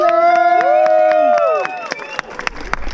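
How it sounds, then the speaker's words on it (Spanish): At an outdoor Christmas posada procession in Brooklyn on a snowy night, a long sung note fades out while scattered clapping from a small crowd picks up, growing denser toward the end. "Gracias por los aplausos"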